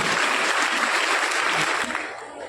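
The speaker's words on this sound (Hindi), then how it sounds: "जोरदार तालियां कटारिया परिवार के लिए" Loud, dense applause fills a school event honoring the Kataria family, sustained and close for most of the stretch before thinning slightly near the end.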